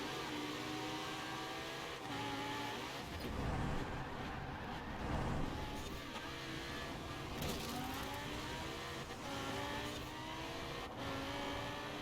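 McLaren 570S engine in the racing game Forza Horizon 4 during a street race, a steady loud rev with rising and falling pitch as gears shift, continuous throughout with no talk.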